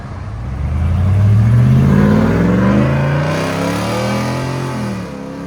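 A 2024 RAM 2500 pickup with the 6.4L Hemi V8 accelerates hard, its loud exhaust rising through the gears in a deep, steady roar that climbs in pitch, then eases off. The truck is close, with no talk over it.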